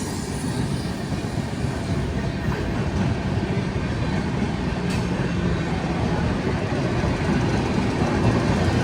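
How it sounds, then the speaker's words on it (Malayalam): The Shatabdi Express rumbles past on the Indian railway in a steady, loud roar with faint clickety-clack of wheels, continuing unbroken throughout. "പണ്ട് ഇന്ത്യയുടെ ഫാസ്റ്റസ്റ്റ് ട്രെയിനായിരുന്നു ഈ പോകുന്നത് കേട്ടോ, ശതാബ്ദി എക്സ്പ്രസ്."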